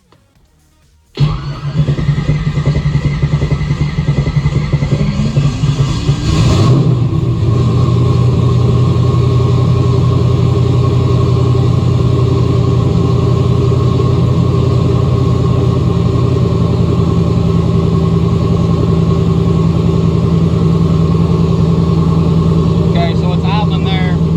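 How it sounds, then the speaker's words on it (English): A car with a Powerglide transmission fires up, its engine catching with a sharp burst, revving once briefly, then settling into a loud, steady, close idle that runs on evenly to the end. "I'm gonna go ahead and fire the car up here, and then we'll see what she does."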